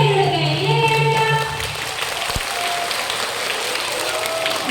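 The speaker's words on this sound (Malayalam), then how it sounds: "എന്തായാലും ഇവർക്ക് വലിയ കയ്യടി നമ്മൾ കൊടുക്കണം" An audience claps loudly and steadily for several seconds, a dense crowd applause that eases slightly in level midway but keeps going to the end.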